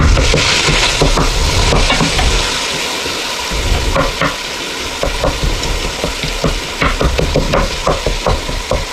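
Ground beef browns in a hot pan for an Italian dish, with a steady loud sizzle broken by scraping and stirring knocks as the meat is broken into crumbles.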